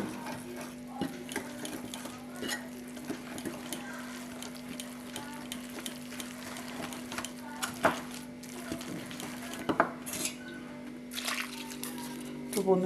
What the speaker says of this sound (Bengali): অল্প করে জল দিয়ে দেব, দিয়ে বেটারটাকে কিন্তু ভালো করে ফাটিয়ে নিতে হবে।